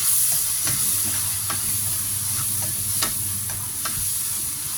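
Rice noodle rolls stir-fried with dark soy sauce in a hot pan sizzle steadily, with spatula scrapes and taps ticking through the frying, close up and with no voices.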